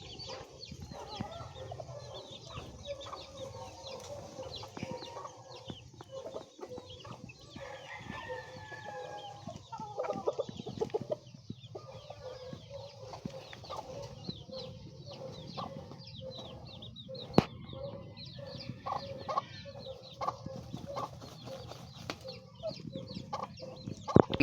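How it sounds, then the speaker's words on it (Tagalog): Pet hens clucking, with rooster crowing and other fowl calls from farmyard chickens, repeated calls scattered over a long stretch, moderately near, with occasional sharp knocks and no talk. "Talaga yung aking mga alagang manok na inahin, matatapang."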